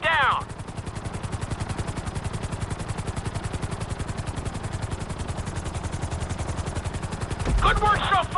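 Helicopter flying in the GTA 5 video game, a steady rapid rotor chop throbbing loudly throughout with game sound effects at start and end.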